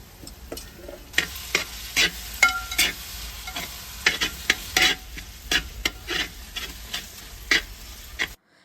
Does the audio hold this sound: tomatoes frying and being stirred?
yes